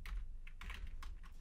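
Quiet, close computer keyboard typing as a search word is entered, with about four soft key taps spaced evenly over a second and a half and no talking.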